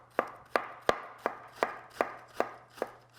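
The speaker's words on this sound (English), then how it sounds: "We're just going to slice it pretty thin." A knife slicing a large head of cabbage thinly on a board, with about nine crisp, evenly spaced chops in a steady rhythm, close and clear with no talking.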